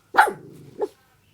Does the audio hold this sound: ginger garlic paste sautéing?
no